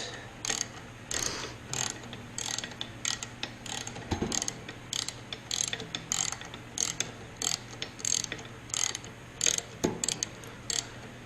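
Ratchet wrench clicking in quick repeated bursts while tightening a 9/16 bolt on a Jaguar MKII front subframe, close and fairly quiet with short pauses between strokes.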